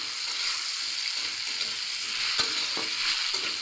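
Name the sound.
stirring tomato, potato and papaya together in a frying pan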